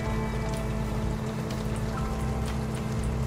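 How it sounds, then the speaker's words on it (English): Steady rain pours down in the life simulation game Denizen Life Simulator, a dense, even hiss of drops on surfaces filling the whole stretch without a break and with no voices over it. "Oh, it started to rain."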